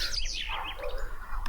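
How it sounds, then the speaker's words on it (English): Macaws calling in the Amazon rainforest, a dense tangle of bright, sweeping calls that fill the short stretch steadily, close and loud, over a constant background hiss. "Look up in the sky. You will see the colorful macaw birds."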